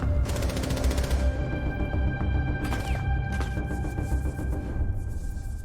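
A rapid string of loud, close gunshots rings out in Rainbow Six Siege, with a quick automatic burst at the start, scattered shots afterward and a steady hum underneath.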